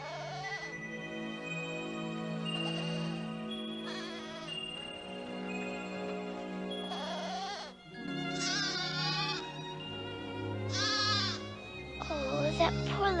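A small goat bleats again and again in shrill, wavering cries, amid a dramatic orchestral score in a 1985 Alice in Wonderland film, with the bleats growing louder and more insistent toward the end.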